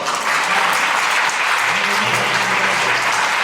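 A church congregation at a Sunday service gives hearty applause to welcome a visitor, with steady, full clapping throughout and a few voices murmuring underneath.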